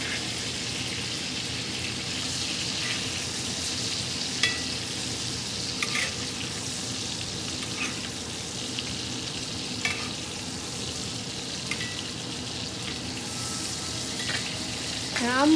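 A ribeye steak sears in foaming melted butter in a cast iron pan, giving a steady, loud sizzle with occasional sharper spits and pops throughout.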